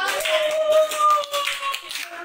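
Classroom applause during a maths micro-teaching lesson on exponents: a brief burst of rhythmic hand claps from students, with a voice talking over it.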